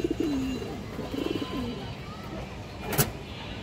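Pigeons cooing, a few soft, throaty coos close together in the first half, then a quieter lull broken by a single sharp knock near the end.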